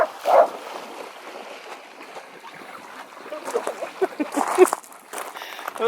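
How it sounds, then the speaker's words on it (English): Dogs splash and scramble in a lake while chasing a thrown stick or ball, with irregular watery splashes and thrashing at moderate distance, a brief bark or whimper mixed in. "Look at the splashing."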